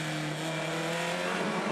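Formula Ford race cars at Winton howl past in a steady, loud engine drone with a strong low harmonic, close and continuous with no talk over it.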